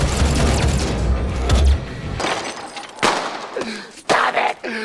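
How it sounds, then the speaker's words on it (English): Gunfire from a weapon in DOOM 2016, with heavy booming shots and thuds that fade into scattered mechanical clanks and short bursts near the end, loud and close. "Don't shoot that little motherfucker no more!"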